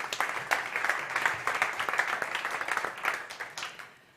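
At a startup competition session on travel and tourism, an audience gives lively applause to welcome a company speaker, many hands clapping with a few sharp louder claps, fading out at the end.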